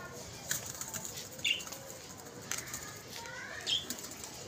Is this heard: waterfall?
no